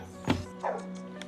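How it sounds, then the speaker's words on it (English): A dog at an eviction visit lets out a single loud, sharp bark with a tonal tail, then a shorter yelp-like call, under a steady hum of low background noise. "except an angry-sounding dog"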